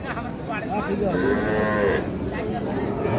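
A cow moos loudly and close, one long drawn-out low call over a constant murmur of a busy crowd at a cattle market, Ambari Hat, Dinajpur, Bangladesh.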